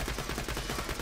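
Rapid gunfire in Borderlands 2 during a fight in Tiny Tina's Assault on Dragon Keep, a quick, steady rattle of shots under a dense, faint mix of game noise.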